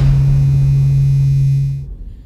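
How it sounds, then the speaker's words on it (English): Electric heater giving off a steady, loud low hum with a faint buzz that holds evenly, then stops abruptly near the end, with no talking. "It's the sound of my heater!"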